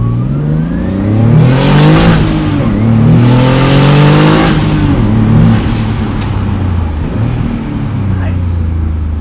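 Turbocharged 1995 BMW 325i launching hard from a standstill in first gear at wide-open throttle, the engine note rising loud and close with rapid revving over several seconds, then settling into a steady strong drone.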